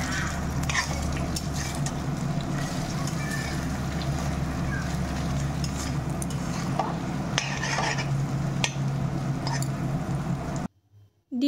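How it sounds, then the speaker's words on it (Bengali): An egg seasoned with salt and pepper sizzles in a pan while a spoon keeps stirring and scraping it, a close, continuous frying sound that cuts out abruptly just before the end. "ডিমটাকে এবার ভালো করে একটু ভেজে নেব"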